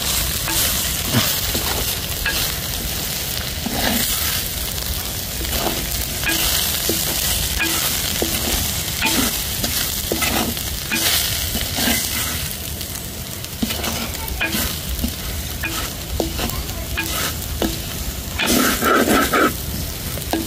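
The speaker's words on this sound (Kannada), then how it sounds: "ಮಸಾಲ ಪುರ ಪಾಡೋನ್ಗ ಇತ್ತೊಂದು ಲಾಯಕಡು ಕುರ್ಲಾವುಡು" Masala stirred through cooked ivy gourd and chickpeas in a hot pan for kadle manoli sukka: continuous sizzling frying with repeated spoon scrapes and stirring strokes, steady and close throughout, no talk.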